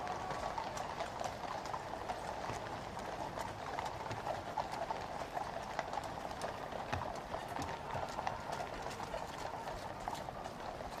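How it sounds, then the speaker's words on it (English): Steady clip-clop of cavalry horse hooves on pavement at a Trooping the Colour parade, many hooves overlapping in a continuous rhythm at moderate distance, with a faint crowd murmur from the stands behind. "Today riding McCarthy, the hand horse is Jasper."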